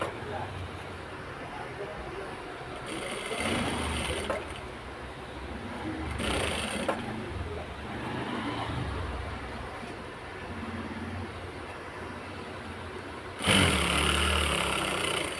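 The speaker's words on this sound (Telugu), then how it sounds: "చూడండి, ఇలా స్టిచ్చింగ్ చేస్తేనే మనకు ఈజీగా సెంటర్ హ్యాండ్ అనేది వచ్చేస్తుంది." A sewing machine stitches cloth in bursts, its motor whirring in repeated runs under a steady background hum, with a louder burst of stitching near the end.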